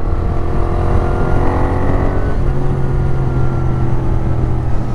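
A Moto Guzzi V7 Racer motorcycle engine drones steadily and loudly during a ride, its low rumble continuous with a slight shift in pitch midway.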